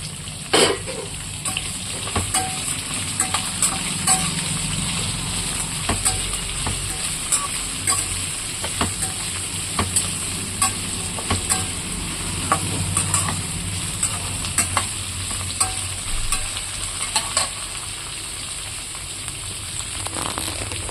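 Ridge gourd and tomato frying in a pan for a roti pachadi, a constant close sizzle with regular scraping and tapping of a spatula throughout, no talking.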